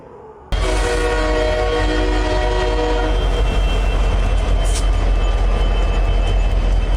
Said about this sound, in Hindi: तस्वीरों में देखिए मेट्रो आ रही है, कुछ लोग प्लेटफॉर्म पर मेट्रो रुकने का इंतजार कर रहे हैं।